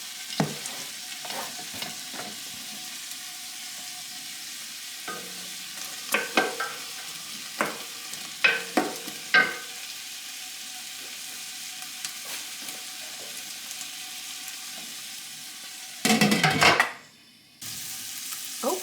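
Garlic, celery and dill frying in a pot for farmhouse borscht, with a quiet, steady sizzle, scattered spoon scrapes and stirring clatter, and a louder burst of stirring near the end.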